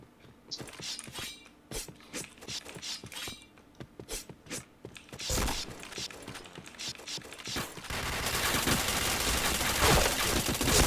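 Gunfire in the online shooter game Point Blank: short crackling bursts and clicky mechanical shots come in uneven volleys, then swell into a dense, loud, continuous roar of fire over the final few seconds.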